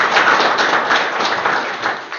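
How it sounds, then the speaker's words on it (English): An audience at a circular economy product event gives a short burst of applause for a speaker, dense close clapping that stays loud and even before tapering slightly at the end. "a little applause for Leah."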